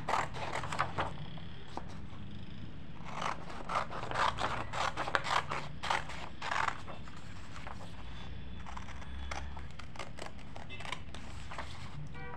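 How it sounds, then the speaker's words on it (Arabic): Scissors snip through a paper sewing pattern for a dress, a run of crisp close cuts in irregular bursts with pauses and faint rustling between, no voices. "طيب هنقص بقى الباترون ونبتدي نرسم عليه"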